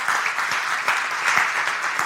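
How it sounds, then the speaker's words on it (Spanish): A church congregation claps together in a steady, loud burst of applause filling the room, with no voices standing out. "denle palmas fuertes al Señor"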